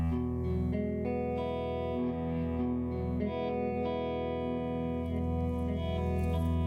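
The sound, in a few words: Red Panda effects pedal, reverb or delay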